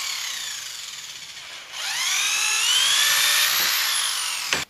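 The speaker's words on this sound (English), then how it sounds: "We're going to drill a little bit larger holes" A power drill bores larger holes through a kayak motor mounting plate for a Jackson Cuda kayak, a close, loud whining drone that starts lower, then rises and holds a high-pitched screech before cutting off abruptly.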